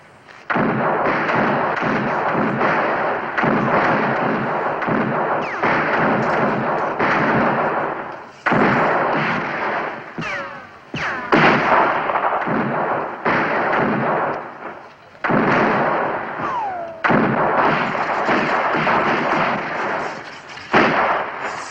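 A volley of gunfire opens up on Confederate soldiers in a Civil War battle, dense crackling shots and booms rolling almost continuously for over twenty seconds, loud and close with brief lulls between bursts.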